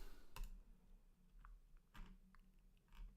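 A few sparse keystrokes on a computer keyboard, faint and quiet, a handful of separate clicks over a few seconds with no talking.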